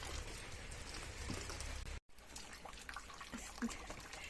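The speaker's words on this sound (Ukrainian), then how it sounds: "Дощ не перестає" Quiet, steady patter of rain with soft drips and trickling water, continuous background with a brief dropout midway.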